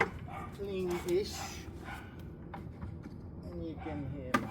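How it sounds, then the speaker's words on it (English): A dog in a basement yips and barks faintly in the background, several short bursts under a person's ongoing talk. "you can hear my crackhead dog in the background"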